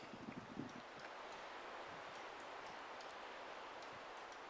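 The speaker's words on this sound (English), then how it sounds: "So it's about 15 degrees and there's a strong wind." Strong cold wind blows steadily through a snowy forest at about 15 degrees, a continuous broadband rush with a few brief gusty flutters near the start and no talking.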